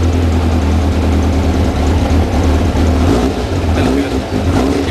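A Tiger Z100 engine runs steadily while warming up, a loud, close, even drone with a low throbbing hum and no pauses; someone speaks briefly over it.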